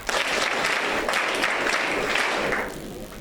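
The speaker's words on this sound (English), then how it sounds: "Why wouldn't you clap for that?" An audience at a school prayer breakfast claps steadily and fairly loudly for a few seconds before the applause fades out.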